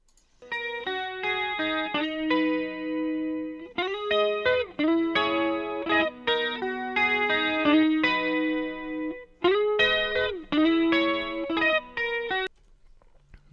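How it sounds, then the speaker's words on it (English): Studio mix run through a Slate Digital FET compressor plugin, dense sustained instrumental music with chorus-like and slightly distorted tone, phrases breaking off briefly around the middle and near the end, no voices. "Let's move over to our FET compressor."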